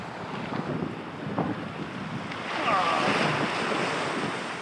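Strong wind and breaking waves on a lake around a kayak, a steady broadband roar with gusts swelling louder toward the middle, close and continuous, no voices.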